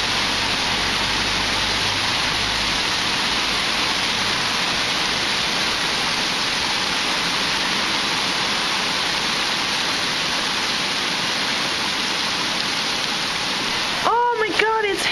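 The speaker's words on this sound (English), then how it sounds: "It's really raining hardcore." Heavy rain pours outdoors as a dense, steady roar that stays loud and unbroken throughout, with a brief exclamation near the end.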